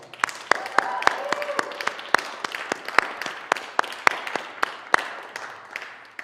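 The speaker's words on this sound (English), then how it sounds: "let's give her one more round of applause" An audience at a music therapy songwriting competition gives a round of applause: a scattered, fairly even patter of claps that thins toward the end, with some voices murmuring underneath.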